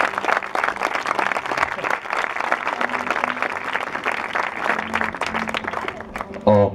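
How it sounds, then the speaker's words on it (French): A church congregation applauds during a sermon: steady, dense clapping from many hands fills the room at a loud, even level and breaks off near the end. "Acclame bien, acclame bien."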